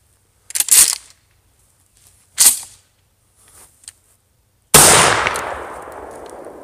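A PGO pump-action shotgun produces a few sharp, short mechanical reports separated by pauses, followed by one loud blast that trails off into a ringing decay.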